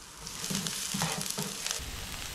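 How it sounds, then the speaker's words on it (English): Onion frying in a dash of oil in a pan, a steady bright sizzle with a few stirring scrapes and bursts of crackle, close and clear with no talking. "Dash of oil, add your onion."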